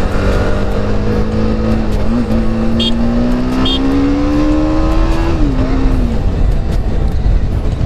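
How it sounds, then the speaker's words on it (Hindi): Revving engines at a street drag race in Delhi, a steady loud roar with one engine note climbing and then dropping, mixed with background crowd noise and brief faint talk. "यहाँ पर लग चुकी है ड्रैग रेस अभी।"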